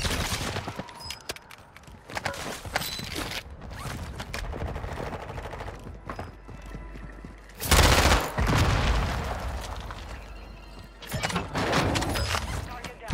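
Submachine gun fire from an ISO 45 in a Warzone match comes as scattered bursts and single cracks, with one heavy boom midway, mixed with game effects while a player talks throughout.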